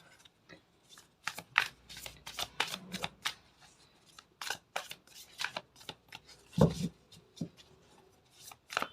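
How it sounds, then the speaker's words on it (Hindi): Tarot cards are shuffled by hand in a rapid, uneven series of crisp riffles and flicks, close and fairly loud, with no talking. "मैं जब शफल कर रही थी"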